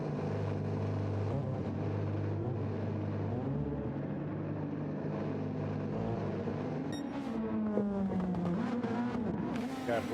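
Race car engine droning steadily at a charity motorsport event, a loud continuous roar with shifting pitch that rises toward the end, with voices talking over it.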